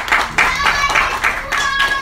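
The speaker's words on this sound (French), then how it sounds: "Applaudissons le Seigneur" An audience at a church gathering claps in praise, a dense, loud round of applause with uneven rhythm, with a voice faintly audible underneath.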